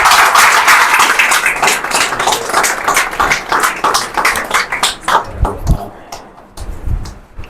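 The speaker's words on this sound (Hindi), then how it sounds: "मारे उस्ताद सर गुलफाम से गुजारिश करता हूँ कि वो आपकी भरपूर तालियों में स्टेज पर तशरीफ लाएं" Applause fills a certificate presentation ceremony, loud and dense at first, then thinning into scattered individual claps and taps, with some background voices near the end.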